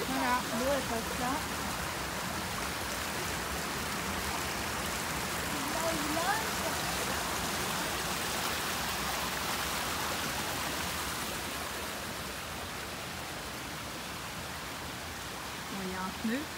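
Water flows over a small cascade at a pond, a steady rushing hiss that holds throughout, heard from close by with a faint voice beneath it.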